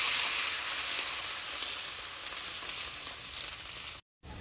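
Hot water poured over dried chiles in a pan with the heat just turned off, giving a steady loud sizzling hiss that runs without a break before stopping abruptly near the end.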